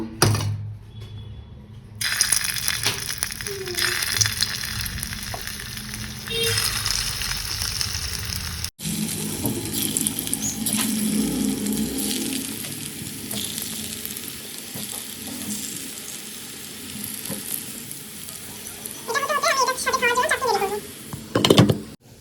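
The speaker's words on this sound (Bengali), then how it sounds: "তেল আমি গরম হতে দিয়ে দিয়েছি এবার হচ্ছে এখানে বলগুলো ছেড়ে দেব" Potato balls dropped into hot oil, sizzling and bubbling up close, with a sharp break partway and a louder burst of frying near the end, with some clatter from the pan.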